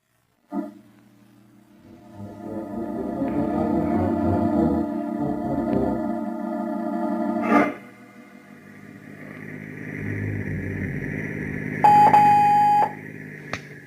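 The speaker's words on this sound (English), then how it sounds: "I shall phone him, Mr. Argyle." Telephone ringing in a 1940s espionage radio drama: after a stretch of music, a loud, steady buzzing ring sounds for about a second near the end.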